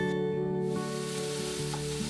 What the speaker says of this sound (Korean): 밑간을 해둔 고기를 먼저 달달달 볶다가